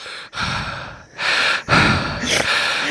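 A voice imitating heavy breathing, loud, close gasping inhales and exhales in three long drawn-out breaths with brief pauses between.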